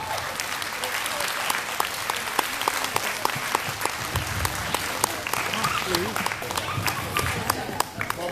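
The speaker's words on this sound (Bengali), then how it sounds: "হাততালিটা আরেকটু জোরে হোক।" Steady, dense audience applause fills a hall at a Bengali Boishakh festival in Manchester, many hands clapping continuously at moderate volume with faint voices underneath.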